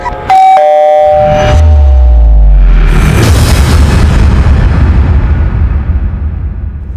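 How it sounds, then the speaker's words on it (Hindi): A sudden loud boom in a TV crime drama, a gunshot set against an indoor domestic scene, lands after a ringing bell-like chime and leaves a long rumbling decay with no talk over it. "गोली चली है ना।"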